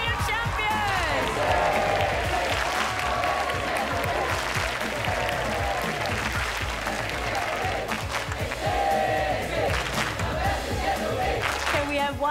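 A crowd at the National STEM Championship 2023 awards applauds and cheers the winning team, dense clapping mixed with shouts and whoops, loud and sustained throughout, with a voice amplified over the noise at moments.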